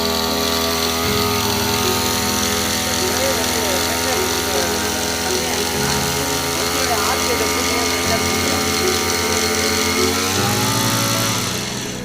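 A small petrol engine on an Aspee power sprayer runs loudly and continuously, its pitch shifting up and down as the speed changes.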